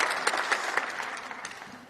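Applause in the European Parliament, fairly distant and soft, a steady wash of many clapping hands with a few sharper claps standing out, tapering slightly at the end.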